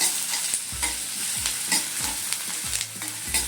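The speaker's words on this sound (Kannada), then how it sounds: "ಓಕೆ, ಈರುಳ್ಳಿನ ಚೆನ್ನಾಗಿ ಈ ಥರ ಬಾಡಿಸ್ಕೊಳ್ಳೋಣ." Onions fry in hot oil while a spoon stirs them around the pan for a spicy chilli chicken, a close steady sizzle broken by repeated scraping strokes every half second or so, no talking.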